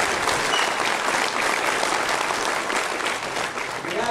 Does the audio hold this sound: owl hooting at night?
no